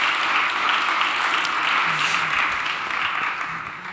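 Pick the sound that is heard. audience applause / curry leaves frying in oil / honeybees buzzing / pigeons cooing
audience applause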